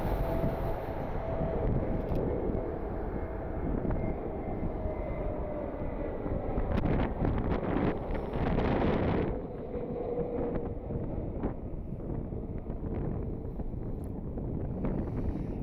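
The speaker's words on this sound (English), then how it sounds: "Frontier Airlines Flight 1696, A320 out of Las Vegas." A Frontier Airlines A320 in from Las Vegas roars steadily at Cleveland Hopkins airport on a windy evening, its broad engine rumble swelling briefly and then easing, with gusty wind buffeting the microphone throughout.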